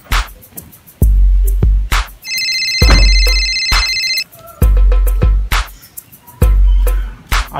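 A mobile phone ringtone sounds during an outgoing call, with a melodic electronic tone playing in bursts between heavy thuds and short vocal sounds, close and loud.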